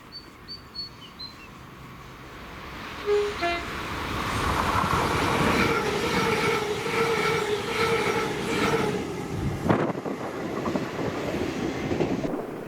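A ScotRail Class 385 electric passenger train passes at Greenfoot: birds chirp over quiet ambience, then the rumble and rhythmic wheel clatter build and hold for several seconds before a sharp bang near the end.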